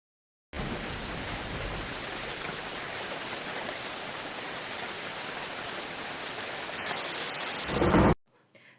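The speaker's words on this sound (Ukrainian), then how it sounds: "Так, це дощик. Восени дуже часто іде дощ." Steady autumn rain pours down as a dense, continuous hiss with low rumbling beneath it, loud and unbroken for about eight seconds before stopping abruptly.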